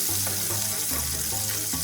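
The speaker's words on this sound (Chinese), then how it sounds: "一只叉子，一只铲子，就可以非常轻松的翻转了" Sweetfish frying in a pan, a steady close crackling sizzle with a low hum beneath and a few soft scrapes as fork and spatula turn the fish; no voices.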